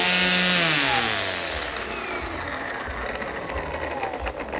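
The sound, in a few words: EGO 16-inch battery string trimmer running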